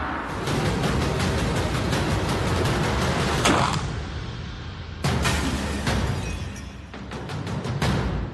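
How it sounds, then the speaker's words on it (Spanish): Needle-gun rifle shots fired at a target, heard as sharp loud cracks over a dense, noisy bed of continuous crackling gunfire, with a sudden burst midway and more shots toward the end. "ha hecho 3 disparos y uno de ellos ha dado en el blanco"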